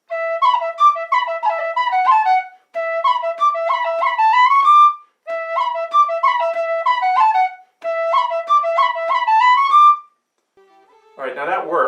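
Tin whistle playing the A part of the Irish tune Drowsy Maggie, four bright, fast phrases with short breath gaps between them, close and loud, then a brief voice at the end.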